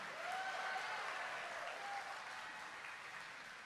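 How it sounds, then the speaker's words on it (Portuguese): A church congregation claps at a Filhos de João Batista community service, a steady wash of applause that stays moderate and slowly fades over a few seconds, with a faint voice briefly rising above it. "Aplaude aí, amigão."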